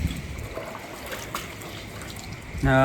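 Rainwater trickles steadily off a flat village roof terrace during heavy rain, a soft continuous watery wash close by, ending in a sudden louder tonal burst.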